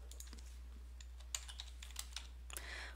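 A name is typed into a phone directory form on a computer keyboard, quiet scattered keystrokes clicking irregularly over a steady low electrical hum, close by and with no talk.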